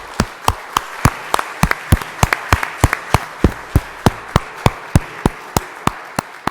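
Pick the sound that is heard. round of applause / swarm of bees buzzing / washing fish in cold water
round of applause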